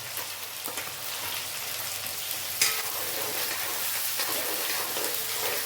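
Chopped onions and green chillies, tempered with mustard seeds and curry leaves, sizzle steadily in hot oil in a frying pan while being stirred, a continuous close crackle with a brief scrape partway through.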